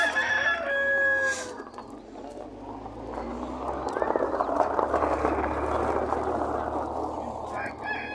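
Farm chickens clucking with a rooster crowing at a Turkish poultry market, a dense, steady flock chorus close by with a brief crow near the start and people talking in the background.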